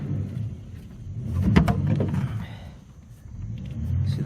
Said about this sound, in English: That's us breaking in a new motor from new.